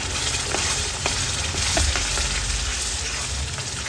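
Masala with ground coconut and peanut paste sizzles in a pan for a bitter gourd gravy, a dense continuous frying hiss with a few faint stirring taps, close up with no talk.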